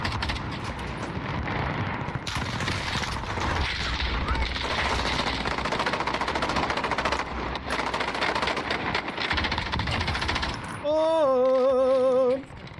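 Rapid bursts of automatic video game gunfire crackle continuously at close range, with a voice talking over it and a brief electronic tonal jingle near the end.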